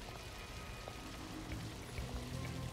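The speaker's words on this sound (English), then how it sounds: "Can I turn off the water?" Water runs steadily from a decontamination shower in We Happy Few, a constant splashing hiss at moderate level, fairly close and uninterrupted, with no talk over it.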